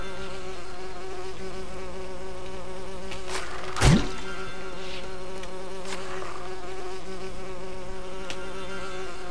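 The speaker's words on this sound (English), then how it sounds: "I'll just shoot the beehive." Insects buzz steadily at a beehive in the Lego Lord of the Rings video game, a dense, continuous drone with a brief thump partway through.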